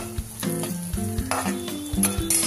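Onion frying in a pan for a vegetable daliya, a steady sizzle with a few louder scraping stirs and clinks of a utensil throughout.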